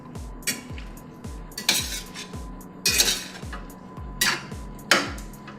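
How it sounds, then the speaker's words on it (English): A utensil stirs a 24-ounce jar of sauce into cooked meat and vegetables in a pan for a beef and veggie lasagna, giving a steady rhythm of soft scraping thumps with occasional brighter clinks, close and alone. "I'm going to go ahead and add that to the meat and the veggies. And then again, just stir it to combine."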